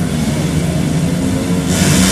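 Several motorcycles revving loudly together at the start of a muddy rice-field race, a dense sustained engine roar close to the microphone with no pauses.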